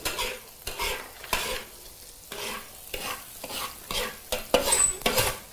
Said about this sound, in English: which is basically just frying the ginger